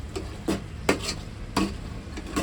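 Chicken fry simmering in oil in a pot while a spoon stirs it, with a steady soft bubbling hiss and a few louder scraping strokes spaced about every half second to second.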